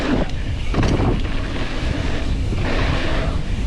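Strong wind buffeting the microphone on an exposed mountain bike trail, a steady loud roaring rush with gusty swells throughout and no talk.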